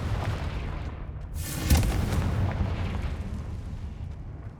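A booming blast from the Confringo fire spell in the video game Hogwarts Legacy erupts over a steady low rumble of game ambience. It is a single heavy explosion with a sharp crack at its peak, then a rolling, fading roar.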